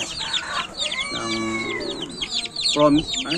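A group of week-old Black Paraoakan chicks peeps rapidly and continuously at close range, with overlapping high chirps and a lower voice-like sound briefly underneath.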